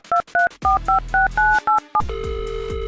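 A phone number being dialed in a string of about eight short touch-tone beeps, then a steady ringback tone, loud and close with no voices.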